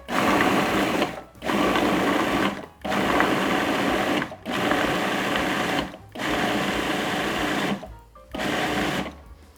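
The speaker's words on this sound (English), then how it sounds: "I got my food processor all set up here, and now all there is to do is pulse it" A food processor pulses fresh cranberries in loud, steady whirring bursts, six of them, each lasting about a second, separated by brief silent gaps.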